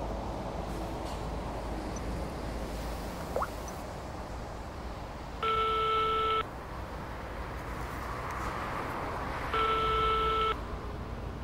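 A telephone ringback tone heard while a call is placed: two clear electronic ring bursts about four seconds apart, each lasting roughly a second, over quiet background hum.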